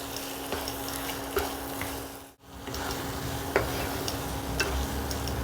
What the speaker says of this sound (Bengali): দিয়ে এটা আবার কষাবো।